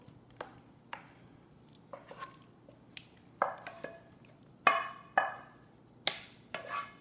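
A spoon or spatula scrapes and taps cheese sauce and potatoes into a pre-greased cast iron skillet, with sparse, quiet wet clinks and scrapes that grow a little louder and closer near the end.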